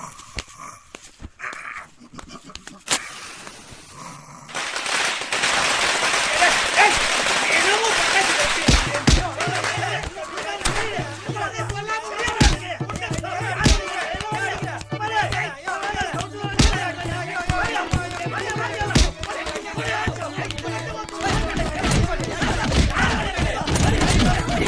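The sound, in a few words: firecrackers being set off in a street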